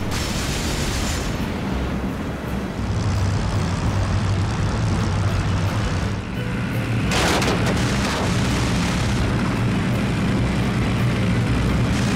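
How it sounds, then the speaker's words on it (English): A Soviet MiG-3 fighter fires a quick burst of gunfire at a German Ju-52 supply plane, a loud, dense rumble over a steady roaring engine drone, with a sharp crackling burst partway through. "Rolling in on the first plane he lets go a quick burst."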